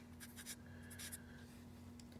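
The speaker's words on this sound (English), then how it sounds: "Write that number right here on the back of the vise." Pen writing a number on the back of a metal vise in a machine shop, very faint: a few short scratchy strokes over a steady low hum of background machinery.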